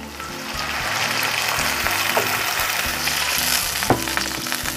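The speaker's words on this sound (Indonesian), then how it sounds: "Bumbunya sudah matang, saya masukkan air ya" Water poured into a pan of sizzling sautéed spice paste for Indonesian savory yellow rice (nasi kuning), a steady loud frying hiss with a few soft clinks of stirring, no talking.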